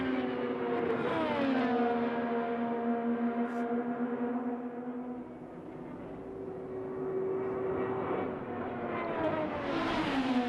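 An IndyCar driven by Alexander Rossi on his first qualifying lap at Phoenix Raceway makes a loud, high-pitched engine scream that swoops and shifts as it passes, then rises again toward the end.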